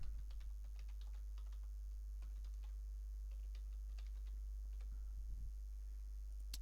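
Quiet typing on a computer keyboard while a chart is made in Microsoft Word: irregular bursts of light key clicks running through the whole stretch over a steady low electrical hum, with no talking.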